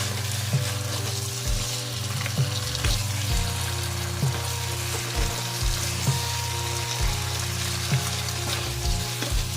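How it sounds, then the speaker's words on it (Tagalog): Snow peas and mushrooms with ground pork cook in a pan, giving a loud, continuous sizzle and hiss punctuated by occasional soft clinks and stirring. "Steam lang ang pagluto sa gulay."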